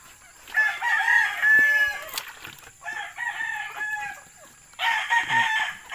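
Chickens cluck and a rooster crows loudly and close by in three bursts, with chicks among the flock at a poultry yard of newly caught young stag gamecocks.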